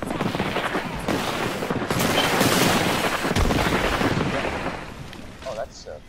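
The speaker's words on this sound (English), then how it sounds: "Oh, that's a missile." An airstrike barrage of missiles and gunfire erupts in Apex Legends, a dense, loud rumble of rapid blasts and shots that swells and then tapers into scattered bursts, with brief voices beneath.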